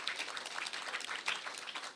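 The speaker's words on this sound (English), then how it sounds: "So give them a round of applause." Faint, steady round of applause from an audience at an official digital device handover ceremony, scattered claps blending into a soft continuous patter.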